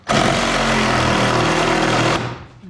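A power tool cuts through a Jeep CJ7 hardtop, a loud, harsh continuous buzzing roar lasting about two seconds, then stopping abruptly.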